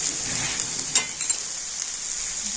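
Spices fry in a pan for a semolina dish under a bright, steady sizzle, with a few faint stirring scrapes of a utensil, close and even throughout the short stretch.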